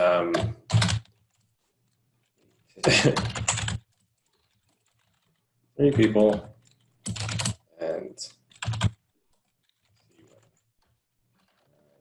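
Bursts of fast typing on a computer keyboard, a few seconds of clattering keys each, separated by silent gaps, close and clear, with a brief spoken phrase.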